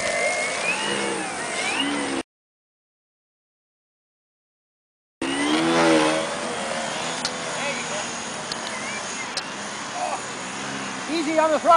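Electric motors of a homemade flying wagon whine and rise in pitch, close and fairly loud, with a gap of silence partway through and people talking over the whirring.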